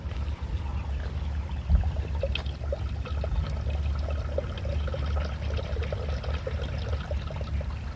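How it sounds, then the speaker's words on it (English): Steady water pouring and trickling from a solar-powered water pump over a constant low mechanical hum, continuous throughout with no talking. "Now it's putting some water through there."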